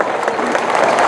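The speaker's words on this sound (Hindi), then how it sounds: "जरा खड़े होकर तालियों से इसका भाई का स्वागत करो" A crowd at a political rally claps loudly and continuously to welcome a speaker, dense close applause with no pause across the short stretch.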